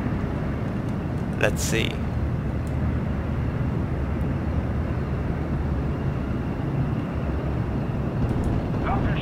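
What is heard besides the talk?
Ju-88 bomber aircraft engine in the video game Steel Division: Normandy 44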